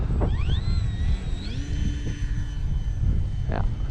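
A Durafly Tundra RC model airplane whines overhead in windy conditions, its electric motor pitch sweeping up and then leveling as it passes, over low wind rumble, with brief bits of voice.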